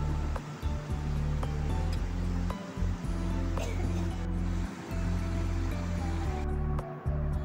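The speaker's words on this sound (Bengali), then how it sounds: "আমি একটা সস প্যানে 2 কাপ গরম জল করে তার মধ্যে 1 চামচ চা দিয়ে আমি ওটাকে জলটাকে ভালো করে ফুটিয়ে নিচ্ছি।" Two cups of water with a spoonful of tea boiling in a saucepan: a dense, rushing bubbling roar that holds steady throughout, with a voice talking over it at times.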